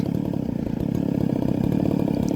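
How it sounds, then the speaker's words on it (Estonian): A small chainsaw engine, Dolmar, Stihl or Makita, runs steadily at a rough, buzzing pitch for a couple of seconds, loud and close, with no voices over it. "Kui karburaator on õieti reguleeritud, siis sellise väikse kuni mõõduka koormuseni teeb mootor sellist nagu koledat häält."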